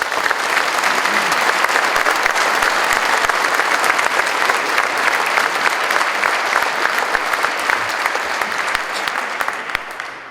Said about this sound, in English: Please give a round of applause for our distinguished guests.